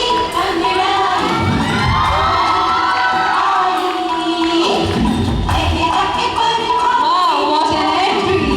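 Students at a girls' hostel freshers' day at BSSS College cheer, shout and whoop loudly as a performer makes an entry, with music playing and continuous crowd noise filling the whole span.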